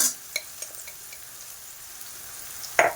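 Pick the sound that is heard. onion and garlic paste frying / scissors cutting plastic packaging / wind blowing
onion and garlic paste frying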